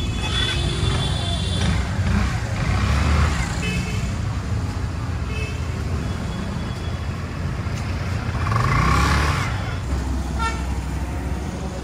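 A new Hero Xoom scooter rides along a road with a steady broadband rumble of motor and wind, passing traffic and a faint horn in the background, and a voice talking intermittently.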